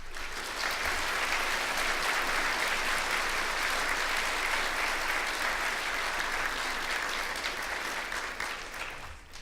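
A luncheon audience at an awards event applauds steadily, with dense clapping that holds for several seconds and then begins to thin out at the end.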